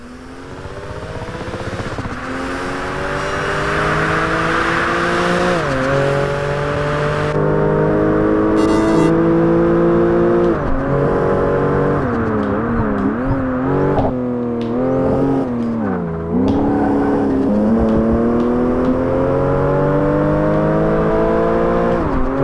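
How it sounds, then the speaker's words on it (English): Turbocharged car engine revving in Project Gotham Racing 4, a loud continuous roar climbing and dropping through gear shifts with a pronounced turbo whine, heard alone throughout. "Hear the turbo a little bit more pronounced here"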